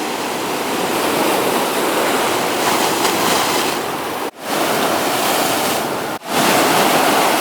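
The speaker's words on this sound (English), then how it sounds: "Look at these waves" Ocean waves surge and wash onto a beach at Koh Lanta, Thailand, a loud, continuous roar of surf close by, broken by two brief dips in the noise.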